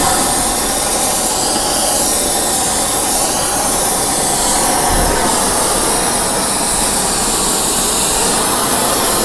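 Fusewel torch spraying a dust coat of Colmonoy 88 powder onto a preheated debarking knife, a loud, continuous roaring hiss that holds steady from start to finish.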